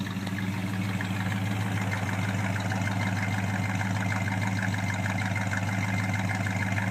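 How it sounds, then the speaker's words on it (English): A 1956 Chevy Bel Air with stock mufflers idles behind the car, giving a smooth, steady, moderately quiet exhaust rumble without variation. "Nice smooth exhaust note to it."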